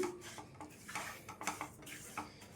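Semolina and ghee being stirred in a pan for rava kesari, quiet spoon scrapes and soft knocks against metal in an uneven rhythm, close by, with no voices.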